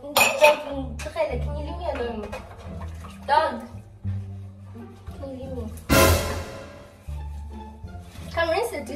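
Dishes clink and clatter in a kitchen sink while being rinsed under running water, several sharp knocks of plates and cutlery breaking through, with people talking nearby.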